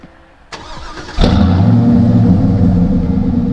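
A new work truck's engine cranks over and catches about a second in, then settles into a loud, steady idle up close, with a sharp click before the start.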